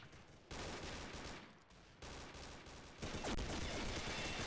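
Gunfire from a gun in the online shooter Combat Arms, rapid dense bursts of shots in sustained strings broken by short gaps, fairly faint and steady.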